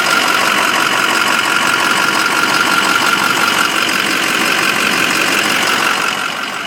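A 2007 Ford F350 diesel 4x4 pickup idles loud and close, a steady rattling diesel clatter with a rhythmic knock that holds evenly and eases slightly at the end.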